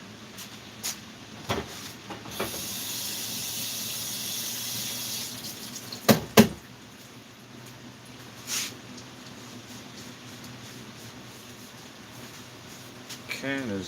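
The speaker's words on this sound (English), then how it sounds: "Hold on, I gotta rinse this off." Tap water runs into a sink as a blender jar is rinsed, a steady splashing flow with a few sharp knocks and clunks, fairly quiet and close.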